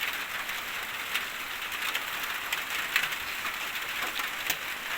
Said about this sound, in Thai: ฝนมาอีกแล้วนี่